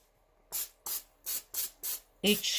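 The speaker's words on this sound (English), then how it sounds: "I'm just going to spray with the spray" Cooking spray from a can misted into the wells of a pan while making sausage and egg sandwiches, five short close hissing bursts in a steady rhythm followed by a louder, longer spray.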